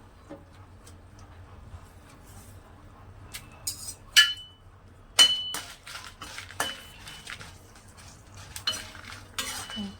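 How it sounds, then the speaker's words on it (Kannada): Mint chutney ingredients such as urad dal frying in oil in a pan, stirred with a metal spoon that gives sharp clinks and scrapes at irregular intervals over a faint hiss, close up, no talking. "ಎಣ್ಣೆ ಹಾಕೋತಾ ಇದ್ದಾರೆ ಫ್ರೈ ಮಾಡೋದಕ್ಕೆ."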